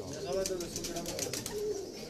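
High flyer pigeons coo softly at a loft in Pakistan, low burbling calls beneath someone speaking close by, with light rustling around them.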